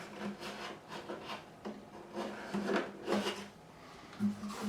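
A loose scrap of wood rattles and scrapes inside the body of a Yamaha FG403-MS acoustic guitar as the guitar is moved, giving irregular knocks and rubbing sounds that come close and clear, with no talking.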